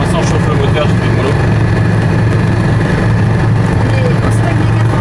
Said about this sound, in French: Pour l'instant, je chauffe le moteur, je fais le mollo.